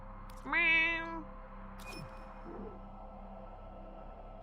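A person imitates a cat's meow with one drawn-out, whiny mew, up close and fairly loud, against a quiet room with faint background noise.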